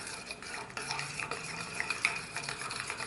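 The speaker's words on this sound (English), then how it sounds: "we're gonna stir this together" A paprika spice mixture being stirred together in a bowl, a steady close scraping and clinking of a utensil that runs throughout without any talk.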